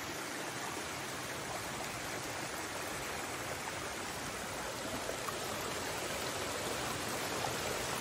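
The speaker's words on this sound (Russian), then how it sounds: "я вам хочу показать водопад," A small waterfall at a house in the mountains rushes steadily, a dense, even wash of falling water heard close and continuous throughout, with no voices.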